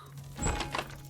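A dull door thud in Sherlock Holmes: The Devil's Daughter as a door swings open, a single soft thump with a brief rumble, close and fairly quiet over faint game ambience.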